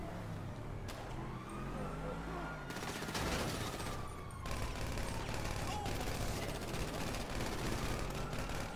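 Gunfire in the GTA 5 video game crackles in rapid bursts over a busy street mix with a siren-like tone and vehicle noise, fairly close and dense, with occasional voices mixed in.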